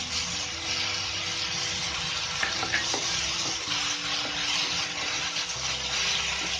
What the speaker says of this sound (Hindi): अब मैं इसमें टमाटर डाल रही हूँ